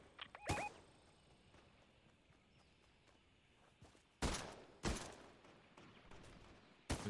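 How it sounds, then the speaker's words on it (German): Scattered gunshots in a competitive duo video game match, several sharp cracks spread across the moment with quieter gaps between them, no talk over the shots. "Oh Gott, überall Schüsse"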